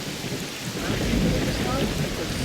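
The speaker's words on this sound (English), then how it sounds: "this rain is ridiculously loud" Loud rain pours down in the video game S.T.A.L.K.E.R. Clear Sky, a dense hiss of drops on surfaces with a deep thunder rumble swelling underneath, with no talking.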